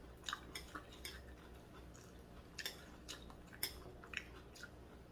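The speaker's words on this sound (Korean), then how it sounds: "양파가 아삭아삭 씹히는 맛이" Someone chewing a homemade gochujang pancake made with only onion, giving crisp, crunchy bites in an irregular series of close, moderately loud crackles with quiet pauses between them and no talking.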